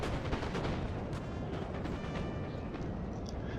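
Massed infantry musket volleys in the Napoleon Total War battle game, dense overlapping gunfire and booming reports forming a continuous rumbling barrage throughout.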